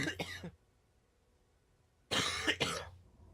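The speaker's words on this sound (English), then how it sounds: "that's some serious coughing" Two bursts of harsh coughing from a sick person close to the microphone, a short double cough followed by a pause of over a second and then a louder, longer double cough.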